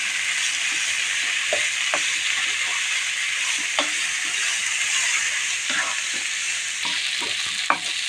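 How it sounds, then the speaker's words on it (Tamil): Cabbage sautés in a pan for egg cabbage sambar, a steady bright sizzle broken by repeated scraping stirs of a spoon against the pan. "நல்லா கலந்துடுங்க ஒரு பத்து நிமிஷம் வதக்கிடலாம் போதும்"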